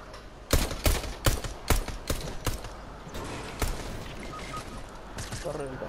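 Several sharp gunshots crack in quick succession in Fortnite Battle Royale, then scattered later shots, with faint voices and game noise underneath.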